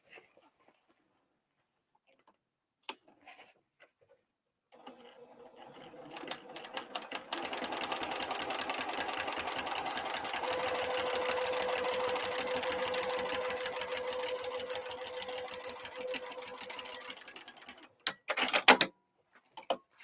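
Sewing machine top stitching a crossbody bag lining: after a quiet start, a rapid mechanical whirring run builds and holds for about ten seconds, then stops with a few clicks.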